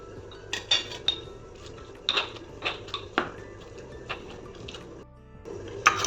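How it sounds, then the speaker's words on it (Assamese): Knife cutting roasted Indian olives (jolphai) into pieces on a board, giving a series of close, sharp irregular clicks and taps with short pauses between them. "জলফাইটো কাটি কাটি দি দিম"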